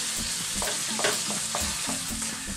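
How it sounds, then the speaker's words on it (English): Spicy tomato gravy with pepper sauce for Jamaican roast chicken cooks on high heat, a loud close bubbling sizzle punctuated by quick rhythmic spoon scrapes and stirring knocks against the pan, no talk. "And we're still on a high heat. We're going to cook this for about 4 minutes. Keep stirring it."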